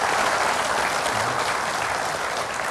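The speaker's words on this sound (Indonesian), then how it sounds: "kita berikan tepuk tangan untuk Bang Yos." Steady, dense audience applause at a live evening event in Jakarta, an even wash of many hands clapping throughout the short stretch.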